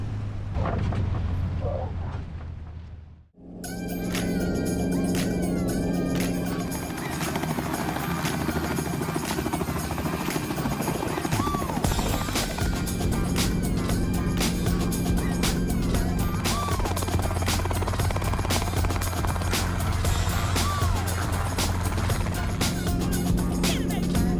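An early-model Cessna 172 in Microsoft Flight Simulator 2024 gives a steady droning propeller engine hum with a constant tonal whine. It starts after a brief dip and continues loud and unbroken, with occasional cockpit clicks.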